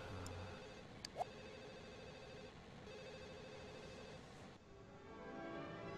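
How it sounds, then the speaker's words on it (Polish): A telephone rings inside The Sims video game, a faint, steady electronic ring of sustained tones held low throughout. "A tam się telefon do nas dzwoni."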